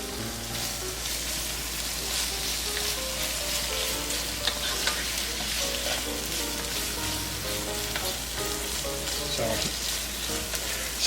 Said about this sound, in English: you just stir occasionally just to make sure that the meat starts to cook and it's going to brown